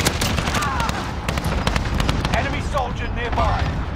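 Cluster airstrike in the shooter game Warzone, a rapid string of sharp explosive cracks and pops spread over several seconds, mixed with gunfire and radio chatter, with a voice talking over the din.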